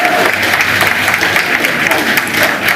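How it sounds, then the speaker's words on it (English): Staff inside Number 10 applaud as the new Prime Minister enters, a dense, steady clapping heard close and loud for the whole stretch, with faint voices in the mix. "you can hear the applause as he enters number 10 as Prime Minister"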